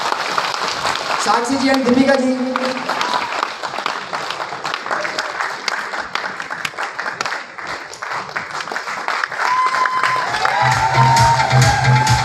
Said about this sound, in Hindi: तालियों में कोई कमी नहीं होनी चाहिए।